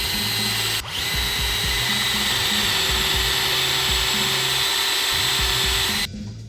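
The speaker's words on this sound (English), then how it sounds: "And now I'm just going to drill these holes." A power drill bores holes for the control pots in the body of an electric octave mandolin, whining steadily and close with a brief dip partway through, then stopping abruptly.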